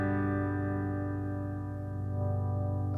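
Reverend Sensei Jr electric guitar with P90 pickups, a sustained distorted chord ringing steadily through an amplifier while the bass contour control is turned, alone with no talking.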